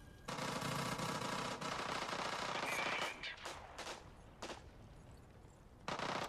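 Gunfire from the video game Rogue Company: a sustained loud burst of automatic fire, then scattered shorter volleys and single cracks, fairly close and dominant over the quiet background.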